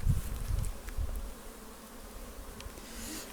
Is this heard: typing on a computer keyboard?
no